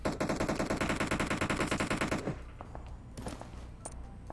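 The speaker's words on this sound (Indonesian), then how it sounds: "Itu tembakan." Rapid automatic gunfire in the video game PUBG Mobile, a loud, dense burst of evenly spaced shots for about two seconds, followed by scattered distant shots and thumps against a quieter game background.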